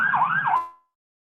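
A fire station siren wails close by, its tone rising and falling twice in a loud sweep before cutting off and fading into silence.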